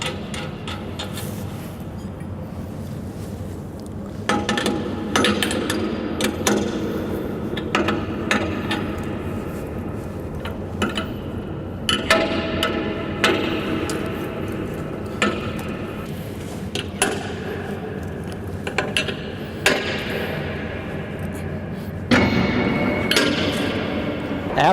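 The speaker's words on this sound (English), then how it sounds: "So now we will tighten down the locking nuts." Locking nuts are tightened on a grain bin paddle sweep with a wrench, producing irregular metallic clicks, taps and clanks at close range in a quiet space.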